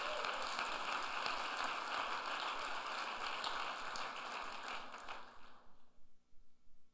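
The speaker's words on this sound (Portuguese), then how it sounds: "Dá um aplauso aí em nome de Jesus ao Senhor." A church congregation at a pastors' gathering applauds in a dense, steady wash of clapping that holds for about five seconds, then thins and fades away into quiet.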